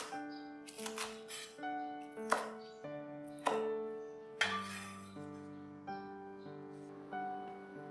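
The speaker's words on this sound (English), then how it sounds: "Then cut it up into about 1 to 2 inch in length" A knife chops green onions into short lengths on a cutting board, giving a steady run of crisp wooden knocks at an even pace, close and clear, with no voices.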